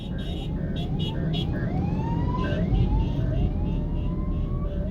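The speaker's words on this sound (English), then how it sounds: "Have some police passing by." A police siren wails past in morning traffic on a highway, its rising and falling sweeps loud and close over steady road and engine noise.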